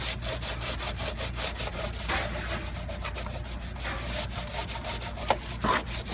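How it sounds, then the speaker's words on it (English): Harsh, continuous back-and-forth scrubbing grinds against a heavy-duty metal kitchen part caked with buildup, loud and close with a rapid rasping rhythm and no talking. "this is pretty heavy duty here on this metal part right here, so we'll get that in there and really kind of scrub with that"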